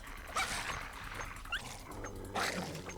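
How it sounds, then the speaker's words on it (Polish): In the video game Fallout 3, a dog whimpers and lets out short yips and barks at a farm, a few brief cries over a steady background of game ambience. "Piesek, uciekaj mi stąd."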